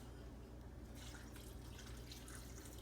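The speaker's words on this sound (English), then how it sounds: "So what I'm going to do is I'm going to add some water." Water pours into a large soup pot of peas, green beans, corn and shredded carrots, a faint steady trickle and splash running under low background noise.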